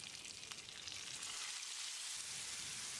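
A paste of ground onion, ten garlic cloves, an inch of ginger and two green chillies fries in a pan with a steady, soft, bright hiss and no voices.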